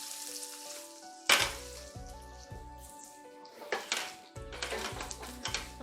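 Onions frying in a pan after shallot juice is added, sizzling hiss with a sharp burst early, pan and utensil clatter, and a musical backing underneath.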